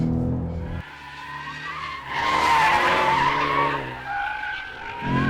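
Tyres of a Ford Mustang 2.3 skid and squeal as it oversteers in third gear on a race track, a loud sustained screech rising over the engine note for several seconds.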